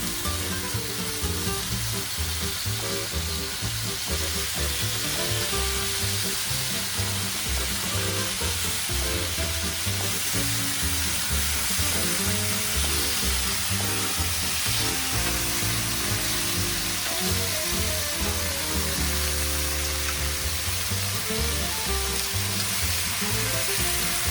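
Bacon sizzling and frying on an American barbecue grill, a loud, continuous crackling hiss with popping fat that holds steady throughout, no talking.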